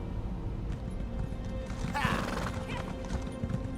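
A horse whinnies in the Elder Scrolls Online game, a loud, shrill neigh over the steady clip-clop of hooves at a walking gait, close and clear.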